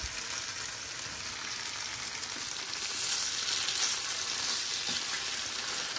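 A patty of beetroot leaves, stalks and oats sizzles in a pan, a loud, even frying hiss that swells slightly midway and continues without speech.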